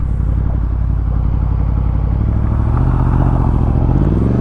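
Yamaha MT-10 motorcycle engine droning steadily while riding, a constant loud rumble with road clatter and wind, up close and continuous without speech.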